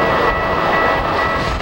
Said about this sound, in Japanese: 京急2100かっこいいですよ